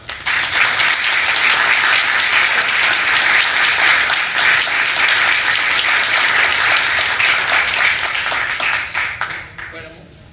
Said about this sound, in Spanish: Y lo felicitamos y le damos un aplauso